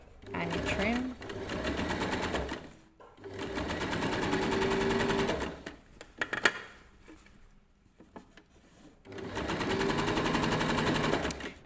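Sewing machine stitching trim onto summer shorts fabric, loud close rapid mechanical whirring in three long runs with short stops between them, and a person talking alongside.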